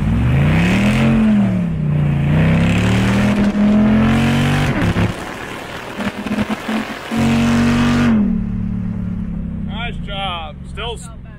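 A hot rod car launches hard with its tires spinning badly, a loud, close engine roar rising and falling as the revs climb, then easing off while people talk near the end.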